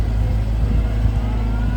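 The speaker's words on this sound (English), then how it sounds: "It sounds like it's running on a conventional engine, doesn't it?" A futuristic tractor at the Cereals 2022 farming show runs with a steady, conventional-sounding engine drone, a close and even mid-pitched rumble that holds constant throughout with no voices.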